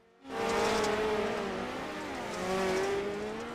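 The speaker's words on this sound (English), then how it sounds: "now we got some car sounds out there" Dirt midget race cars roar around an indoor track, a sustained engine drone rising in after a quiet start and swelling again near the end, heard from a distance with no talk.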